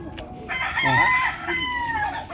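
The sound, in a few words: chickens and rooster crowing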